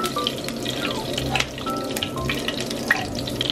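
A small cooking sample of shrimp paste with lime sizzles and crackles steadily in a pan nearby, with light scraping and stirring mixed in.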